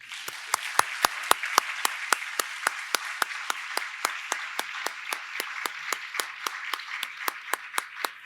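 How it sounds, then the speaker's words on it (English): Audience applause at a community appreciation awards ceremony: a few loud, crisp hand claps ring out in a regular beat over a softer bed of scattered clapping, fairly close and steady throughout. "You may applaud now."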